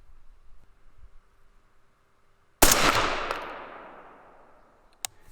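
A single sharp rifle shot from a 6mm ARC rifle fired through a tight suppressor cracks loudly outdoors and decays over about two seconds, followed by a faint short click or tap.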